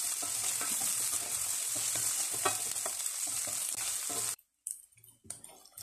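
Onion and garlic for garlic chutney fry in a pan with a steady, close crackling sizzle and small stirring knocks, then the sound cuts out abruptly and returns in brief, faint bursts.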